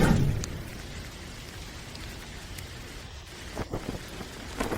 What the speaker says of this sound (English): What heavy rain.